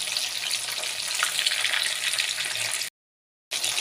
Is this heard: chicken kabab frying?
yes